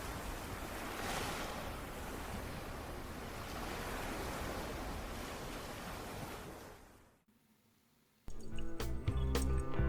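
Ocean surf rolls onto a beach in Guam, a steady loud wash of waves filling most of the stretch before dropping away briefly and giving way to other sounds near the end.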